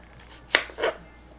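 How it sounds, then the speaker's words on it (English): A kitchen knife chops red skin potatoes into chunky pieces on a cutting board, two crisp cuts in quick succession, close and clear with no talking. "taking some red skin potatoes and going ahead and, you know, removing any bad spots that are on them, and just chopping them up into chunky pieces"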